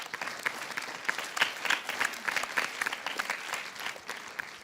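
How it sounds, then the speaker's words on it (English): An indoor audience at a Ladies Day celebration applauds steadily, a dense patter of many hands clapping at moderate volume, close by and continuous for several seconds with no talk over it. "let's all give them a big round of applause"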